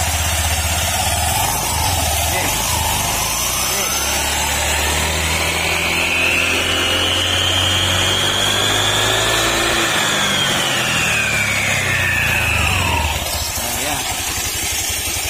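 A small engine starts and is revved up to full speed, its whine climbing steeply, holding high for several seconds, then falling back, loud and close.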